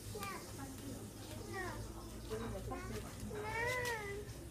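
Several loud, drawn-out cat meows ring out close by, mixed with people talking nearby.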